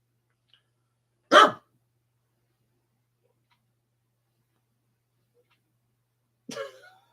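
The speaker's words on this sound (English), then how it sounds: "He's just sitting there barking." A pet dog named Rocky barks twice while sitting still, with two short separate barks about five seconds apart and silence between them.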